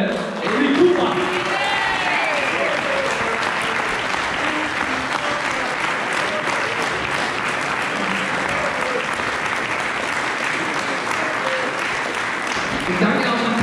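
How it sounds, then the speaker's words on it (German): A wrestling show audience in Switzerland applauds steadily and loudly for several seconds, a dense wash of clapping with an announcer's voice and a few cheers over it. "Applaus auch für Pascal Siegler!"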